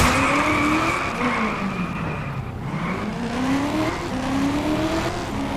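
Car skidding in the video game Just Cause 2: a steady, fairly loud game engine drone with rising and falling tire squeal that slides through the whole stretch, and no voices over it.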